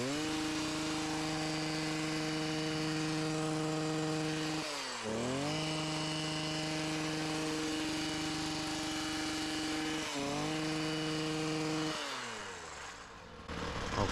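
Gas-powered trimmer cutting back overgrown bushes outdoors, a loud steady engine drone that dips briefly as the blades bite into branches, then revs again and winds down near the end.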